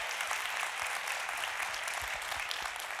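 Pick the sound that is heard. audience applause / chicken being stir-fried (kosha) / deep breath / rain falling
audience applause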